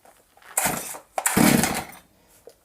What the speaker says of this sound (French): Je vous la démarre.